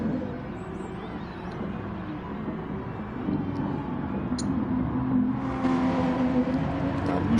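A Porsche 911 RSR race car in a racing video game drives through a chicane toward the final corner, its engine a steady whirring drone that builds slightly in revs, continuous and fairly close.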